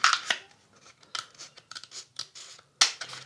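Scissors snip through a cardboard tube in a series of short, crisp, close cuts with brief pauses between, the blades scraping and crunching the card; no one speaks.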